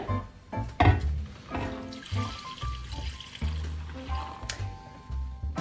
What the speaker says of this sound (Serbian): U taj kvasac stavljamo pola litra vode.